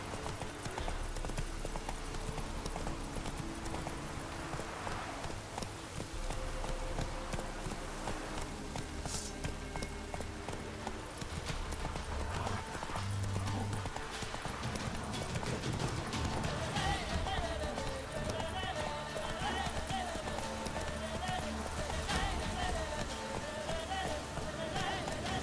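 In The Witcher: Wild Hunt, the horse Roach gallops in a steady, continuous rhythm of clip-clopping hoofbeats, joined by game music and ambience, with a voice speaking over it at times.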